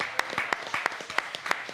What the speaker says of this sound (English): Let's get them another round of applause and bring them back in.